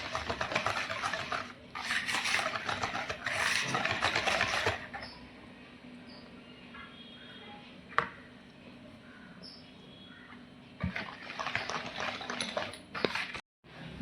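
Powdered sugar being mixed into eggless chocolate cake batter, a soft scraping, churning mix in bursts near the start and end, with a quieter stretch and a single sharp knock in between.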